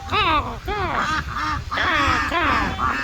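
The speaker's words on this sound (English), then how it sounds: "I'm very excited to feed the ducks" Several ducks quack loudly and close by as they are fed at a water tower restaurant, a rapid run of nasal calls with short gaps between bursts.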